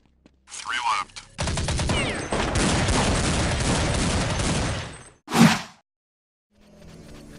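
Sustained rapid gunfire rattles through a video game shootout on a snowy map, followed by a short sharp burst and a pause; a voice talks over the opening.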